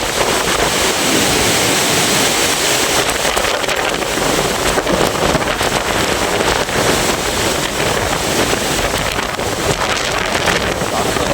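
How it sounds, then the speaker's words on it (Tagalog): Strong typhoon wind roars across the shore at low tide during Typhoon Uwan, a loud constant blast buffeting the microphone with surf mixed in, no voices. "Hangin, grabe."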